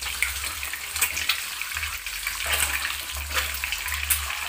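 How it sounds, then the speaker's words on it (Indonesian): An egg fries in hot oil left over from frying tofu, a steady, close crackling sizzle with fluctuating spatter that runs without pause under a low background hum. "Lalu sisa minyak menggoreng tahu kita gunakan untuk menggoreng telur. Goreng telur hingga berkulit,"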